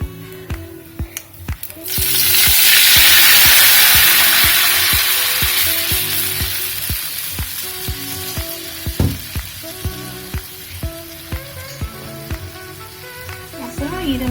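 Tomato pepper rasam is poured into hot oil with popped mustard seeds, setting off a loud burst of sizzling that slowly settles into a steady fry, with ladle clinks and scraping against the pan.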